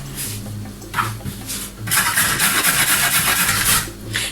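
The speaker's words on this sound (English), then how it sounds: "we need to peel and grate our carrot. I will be using this grater right here" A carrot is grated by hand on a grater, making rough rasping scrapes. A few short strokes come first, then a longer run of steady, rhythmic grating, close and clear.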